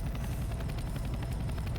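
Helicopter in the CS:GO Wildfire map, a steady loud rotor drone with dense low-end rumble and faint rhythmic chopping above it, continuous throughout with no talk.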